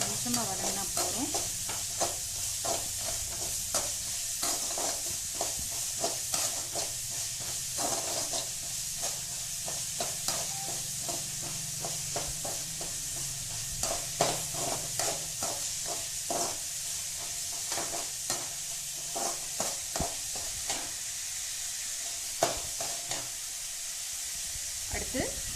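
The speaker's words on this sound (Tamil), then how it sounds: "வெங்காயம் ரொம்ப வதங்க வேண்டாம், கொஞ்சமாக வதங்கினா போதும்." Onions sautéing in a pan for a Tamil kambu paniyaram recipe, a continuous close sizzle and hiss punctuated by repeated scraping and stirring clicks, with occasional talk over it.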